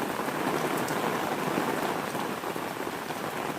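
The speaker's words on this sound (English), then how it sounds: "Love that rain." Steady rain pours on a Florida garden with fruit trees in summer, a dense, even hiss of drops that holds at the same level throughout with no voices.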